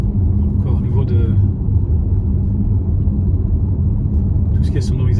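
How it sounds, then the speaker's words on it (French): Steady low rumble of tyres on a country road and wind rushing past inside a moving Cupra Born electric car, constant and fairly loud throughout with no distinct events. "on entend les roues. Je sens le vent qui passe."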